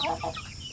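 Chickens at a farm give a few short, soft clucks, close by and fairly faint.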